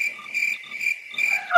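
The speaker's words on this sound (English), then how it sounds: "Crickets." Crickets chirp in a steady, high-pitched trill, pulsing in short bursts with brief gaps, fairly close and alone with no talk.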